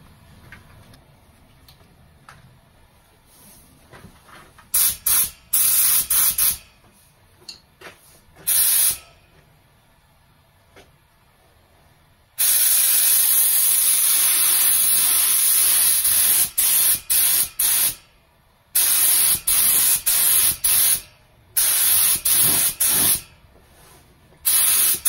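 Classic Mini dashboard being spray painted, with loud bursts of hissing spray starting and stopping in uneven passes, separated by quieter gaps of low background noise.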